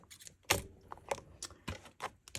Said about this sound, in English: Then take your scissors and just bring it up to the top here and cut